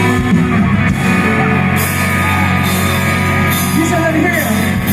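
A concert crowd on the CCP grounds in Manila shouts and yells steadily over amplified music, a dense wall of voices with occasional louder whoops.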